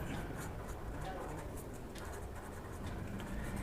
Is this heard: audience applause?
no